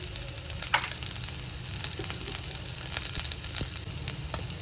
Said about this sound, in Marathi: लसूण हे पण जरा तेलावर तळून घ्यायचं